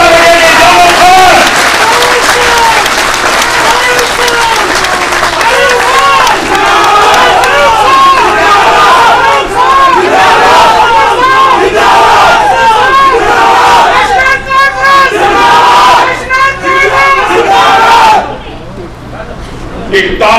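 Large crowd at a National Conference political rally in Jammu and Kashmir applauding and cheering loudly and continuously, dense clapping with shouts that thin out near the end.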